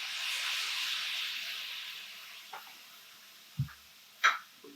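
A soft steady hiss of water steaming in a hot pan of shrimp and broccoli fried rice fades slowly, followed by a few faint clinks and taps.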